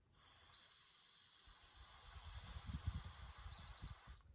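A steady rushing breath into a breathalyzer with a thin, high continuous tone held for about three seconds, ending in a few short beeps.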